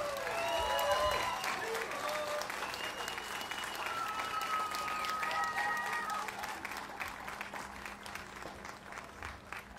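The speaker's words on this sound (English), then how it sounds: "give these guys a big round of applause, please" An outdoor crowd at the 2017 Noblesville Fireworks Festival applauds after a military oath ceremony, with sustained clapping and a few high whistle-like cheers that slowly thin out toward the end.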